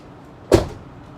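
A heavy car door on a 30-year-old Mercedes shuts once with a solid, close thud that dies away quickly in a quiet space.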